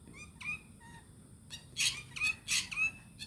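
Several birds call outdoors in short bright bursts, a few soft chirps first, then louder squawking calls clustered near the end, fairly close with low background rumble.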